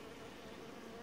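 Honey bees buzz at an apiary beehive, a faint but continuous humming swarm drone with no other sounds.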